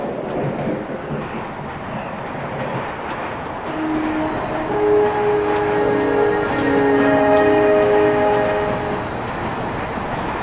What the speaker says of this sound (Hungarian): a 9. vágányra szerelvényt tolnak.